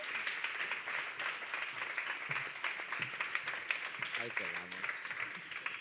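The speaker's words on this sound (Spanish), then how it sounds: "Un aplauso para ella también." Faint, steady applause rises from an audience at a forum as a guest is welcomed, with a voice briefly heard over the clapping.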